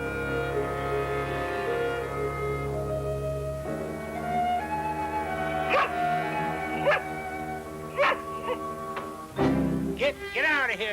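A hungry greyhound whimpers and gives several short yips and barks near a house, the sounds getting more frequent toward the end and partly buried under steady orchestral music.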